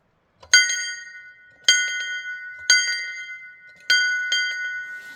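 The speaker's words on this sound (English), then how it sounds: "School bell. All time for school." An old school bell is struck four times at uneven intervals, each bright metallic clang ringing out and fading before the next, loud and close with no voices.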